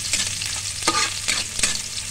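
Chopped onion and garlic sauté in a pan with a bright, continuous sizzle, broken by a few quick stirring scrapes that sound close and fairly loud, with no voices.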